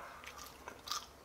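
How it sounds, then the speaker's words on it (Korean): Crispy fried snakehead fish served as dorii-baengbaeng, bitten and chewed up close in a short series of crunchy bites, quiet and without speech. "자 그러면 이제 대망의 가물치 한번 먹어보도록 하겠습니다"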